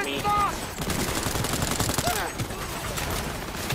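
Rapid automatic gunfire bursts in Cyberpunk 2077 during a club break-in firefight, loud and continuous with overlapping shots, while a voice shouts over the shooting.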